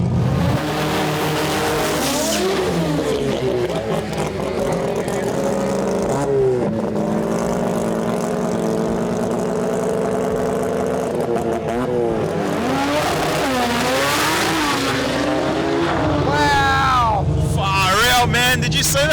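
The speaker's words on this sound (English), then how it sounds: "You gave it another little stab there to see how the engine felt." A race car engine at the Sydney Jamboree revs hard in repeated surging bursts, rising and falling in pitch close to the listener, with people talking over the roar.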